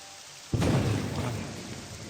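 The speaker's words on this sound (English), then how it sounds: "Bloody thunder and lightning." Thunder in the video game Morrowind cracks suddenly and loudly, then rolls off into a long rumble over steady rain.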